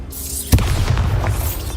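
A Bombarda spell explosion in the video game Hogwarts Legacy: one sudden, deep, booming blast that hits hard and rolls into a rumbling tail lasting over a second.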